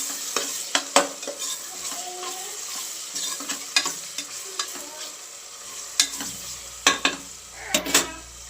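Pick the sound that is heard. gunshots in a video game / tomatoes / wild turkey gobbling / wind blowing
tomatoes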